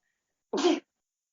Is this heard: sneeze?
yes